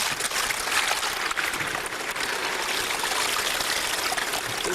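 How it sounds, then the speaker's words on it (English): Water runs and trickles over a gold pan at a river, a steady close hiss and splash continuing throughout with no voices. "You see the water's running over."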